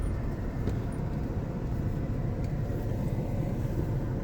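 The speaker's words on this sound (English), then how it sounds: "I wanted to give you a taste of what it's like driving" A car cruising through Monument Valley, Arizona, heard from inside as a steady low road rumble and engine hum, with faint wind noise and no breaks.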